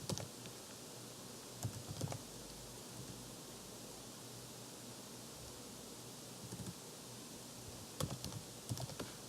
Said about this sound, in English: Let me just type in my administrative